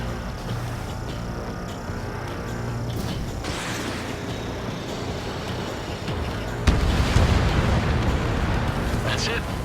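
An enemy bomber explodes with a deep rumbling burst in the Ace Combat 7 flight combat game, then a sharper blast, set against steady jet engine roar, with voices talking over it.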